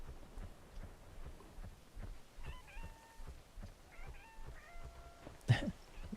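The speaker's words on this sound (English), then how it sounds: "There's someone in the background meowing" A player character in the video game Webfishing gives short cat meows in quick clusters, faint and in the background, with soft footstep-like clicks and a brief thump near the end.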